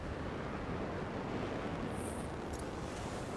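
Waterfall in the video game Anthem, a steady broadband roar of rushing water, constant and fairly loud without pauses or voices.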